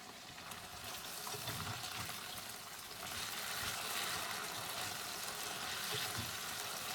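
A mixture with garlic and peppers is stirred in a hot pot, giving a steady, fairly faint sizzle and hiss with soft scraping swirls underneath, no voices.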